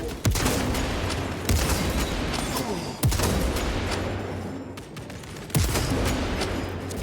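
Sniper rifle shots in the video game Space Marine 2: four loud, booming reports spaced a couple of seconds apart, each with a long rumbling tail over continuous battle noise.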